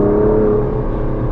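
The 5.2 litre twin turbo V12 of an Aston Martin DBS Superleggera Volante hums with a steady, deep drone from inside the car, loud and continuous with a slight dip in revs.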